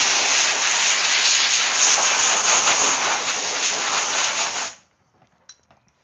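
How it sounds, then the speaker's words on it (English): Compressed air blasts hard and close onto a workpiece during market prep for batches of egg holders, a loud continuous hiss lasting several seconds before cutting off abruptly into near silence with a few faint clicks. "I'm going to just take the compressed air right here and blow this guy off"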